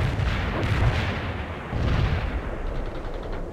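Distant rumbling artillery fire in the real-time strategy game World in Conflict, a continuous barrage of heavy booms and blasts rolling together without speech.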